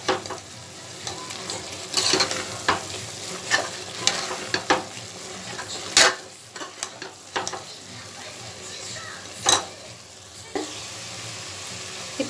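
Masala sizzles steadily in hot oil for biryani while a spoon scrapes and stirs it in quick, uneven strokes, with sharp clatters of metal on the pan rising over the constant frying hiss close by.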